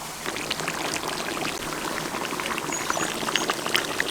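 750 ml of yogurt poured into a karahi chicken gravy, making a steady, close, hissing, bubbling pour with faint sizzling, continuous and without talk.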